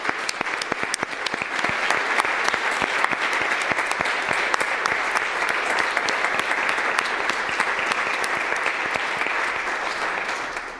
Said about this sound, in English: Would you give them a round of applause this morning?